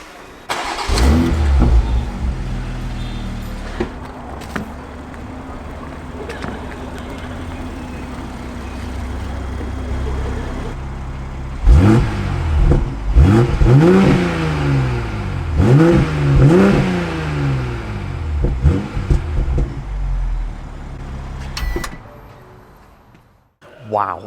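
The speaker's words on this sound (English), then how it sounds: "fire up that fantastic engine at the front, so you can have a little bit of a listen at that brilliant exhaust note" A BMW roadster's B58 front engine starts and idles with a deep exhaust rumble, then revs sharply several times in quick succession before cutting off.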